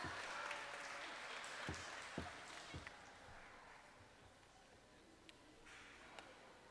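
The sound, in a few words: applause for the teams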